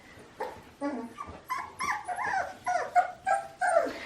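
A young puppy, about four weeks old, whimpers and yips in a string of high, wavering cries, roughly eight separate whines in quick succession, close and clear with no talking.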